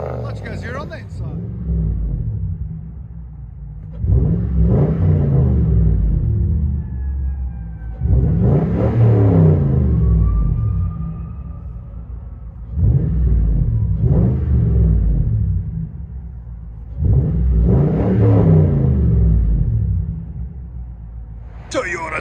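A straight-piped 2017 Toyota Tundra TRD 5.7L V8 with true dual exhaust and quad tips revs in four deep, loud bursts with rumbling idle between, heard from inside the truck.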